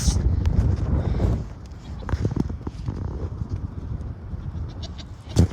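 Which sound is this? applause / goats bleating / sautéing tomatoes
goats bleating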